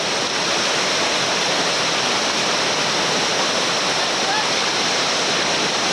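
Whitewater rapids on the Upper Gauley River roar as a steady, dense broadband rush that fills the whole stretch without break.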